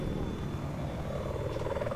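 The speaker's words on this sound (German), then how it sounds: "Da vorne, vor uns ist ein Heli." A helicopter in the video game Battlefield 4 drones with a steady, throbbing rotor chop at moderate distance, under some faint game noise.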